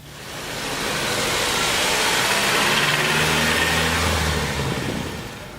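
Lancia Fulvia engines, a group of about 25 cars including Zagatos at a Goodwood track day, swell into a loud passing roar that rises, holds for several seconds and fades, with droning engine tones over broad noise and no talk.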